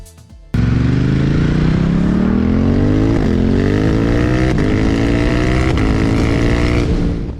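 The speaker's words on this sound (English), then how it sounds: "Let's take a ride from dusk to night on this fierce super predator that is the Diavel 1260S." A Ducati Diavel 1260 S motorcycle engine starts abruptly and then accelerates hard while riding, revving steadily upward through several gear changes, loud and close throughout with no talk.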